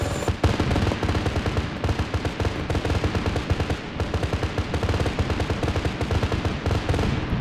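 Rapid, sustained aircraft cannon fire in the Arma 3 military game, a dense stream of loud thudding bursts with short gaps, running continuously at close range with no talk.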